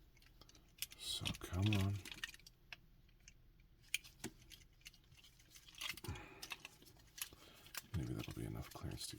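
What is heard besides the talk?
plastic toy parts clicking while assembling a Transformers Megatron figure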